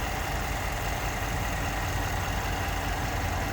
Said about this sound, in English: You can hear it idling very happily.